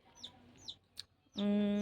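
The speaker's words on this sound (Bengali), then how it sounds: "মুরগির ছানাটা দেখো" Small chicken chick in a rural yard gives a few soft, high peeps, then a sudden louder, sustained squawking call close by.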